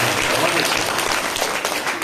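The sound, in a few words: audience applause after a speech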